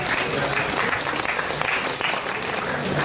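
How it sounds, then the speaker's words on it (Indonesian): A workshop audience of university students applauds the speakers with brisk, lively clapping that is close, dense and unbroken for the few seconds heard. "sebelumnya kita beri tepuk tangan yang meriah buat para"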